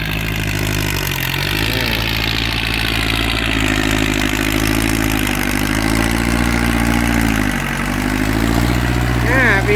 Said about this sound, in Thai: เดี๋ยวผมต้องไปขยับมอไซค์ให้หลวงพ่อก่อน